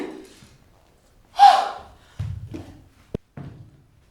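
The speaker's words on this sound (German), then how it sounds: "Sie schnarcht." A woman snores on stage in a drama school production of the play Yvonne, Princess of Burgundy: a loud breathy snort, then several softer, low rasping snores with a short thump between them.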